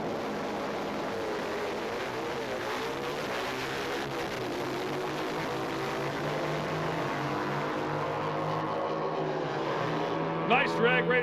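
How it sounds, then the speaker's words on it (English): Pro Mod drag race cars launch and race side by side at the AHDRA Indy Nationals, a loud sustained engine roar with climbing, sweeping pitch that swells near the end. "Nice drag race, both guys very close at the starting line."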